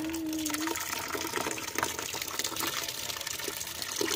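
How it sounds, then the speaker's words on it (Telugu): Water gushes steadily from a tap as a container fills, a continuous close splashing rush that runs alone throughout. "నీళ్ళు నింపినాం కనిపిస్తుంది"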